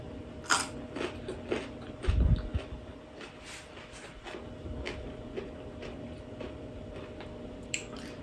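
Close crunching bites and chewing of crunchy fermented garlic, with sharp crisp snaps early and a heavier crunch, over a faint background hum.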